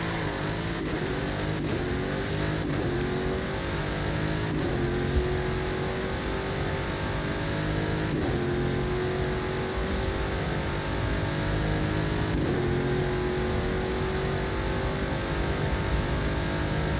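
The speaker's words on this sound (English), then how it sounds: "Car I was using was the 2010 Mosler MT900S" A 2010 Mosler MT900S engine in Forza Horizon 5 roars continuously through repeated gear changes, each upshift dropping the pitch before it climbs again, loud and close with no voices.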